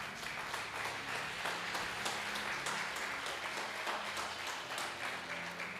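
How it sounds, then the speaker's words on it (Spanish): Scattered applause from a church congregation during a service, steady and fairly distant, with low murmuring underneath and no clear voice on top. "¿Cuánto le da un aplauso al Señor?"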